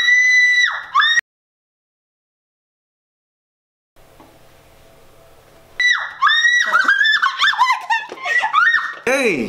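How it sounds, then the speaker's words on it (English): A person screams loudly in high, shrill bursts. The screams stop abruptly and leave a long quiet stretch with a faint low hum, then return as a rapid string of piercing yells and shrieks. "you coming here screaming like a hyena, about to wake up the whole nation"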